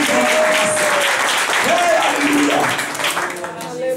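A church congregation applauding during a bilingual Portuguese and French service, with steady, dense clapping throughout and sung or spoken voices carrying over the top.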